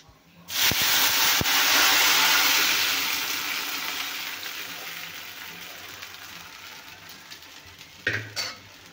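A sudden loud sizzling hiss erupts as tomato rasam hits hot oil tempering, then gradually fades over several seconds, ending with a few utensil clinks.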